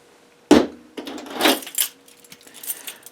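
A ring of house keys jangles and clinks in several quick bursts, starting with a sharp shake and continuing in lighter metallic rattles, close and alone.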